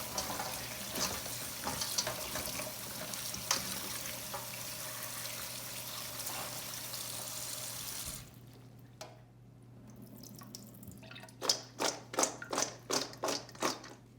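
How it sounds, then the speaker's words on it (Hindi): Okra is washed under a running tap, giving a steady, close splash of flowing water that cuts off partway, followed by several sharp drips and taps. "भिंडियों को वॉश करना है।"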